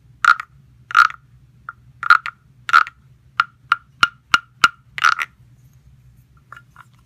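A small wooden baby frog instrument from a frog collection, played by scraping its ridged back and tapping, gives a sequence of short croaking rasps then crisp single clicks, close and clear with nothing else around.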